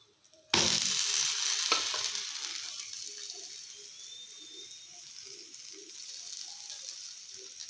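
A besan (gram flour) dosa is flipped onto a hot pan, setting off a sudden loud sizzle that slowly settles into a steady, softer frying hiss, with a faint clink from the spatula.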